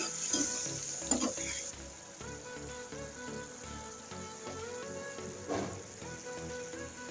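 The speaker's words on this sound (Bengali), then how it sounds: "অল্প করে পানি দিয়ে মশলাটা কষিয়ে নিচ্ছি" Spice paste of cumin paste and salt, with a splash of water, fries steadily in a pan for a taro-stem and shrimp curry, sizzling loudly throughout with intermittent stirring scrapes and no talk.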